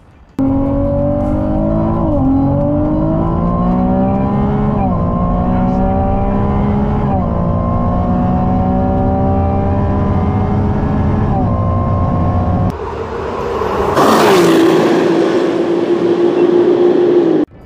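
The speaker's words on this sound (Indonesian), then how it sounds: "mesin ini cuma 2900 cc V6, cuma 6 silinder" A Ferrari 296 GTB 2.9-liter V6 engine revs loudly and steadily on the Sepang circuit, pitch climbing and dipping through gear changes, then a sharp burst of roaring acceleration near the end.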